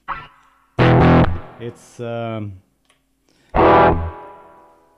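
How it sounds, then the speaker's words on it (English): A distorted Hagstrom H II N electric guitar strikes a few heavy chords with sustained fuzzy decay and silent gaps between, with a brief spoken word at the start. "this kind of disturbing distortion hardcore thing."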